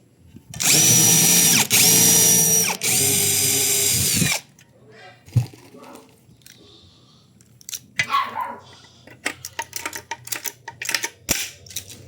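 A power drill whirs loudly at high speed for about four seconds, with a brief pause partway, then stops, leaving quieter clicks and handling noises, while working on a 38 series panel frame.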